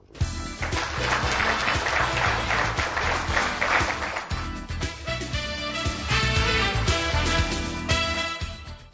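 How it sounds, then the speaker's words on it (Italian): Sustained crowd applause, dense clapping from many hands that swells and continues steadily throughout, loud and close. "Un applauso."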